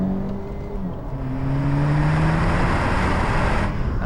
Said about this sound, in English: Let me give you a little taste. Second gear,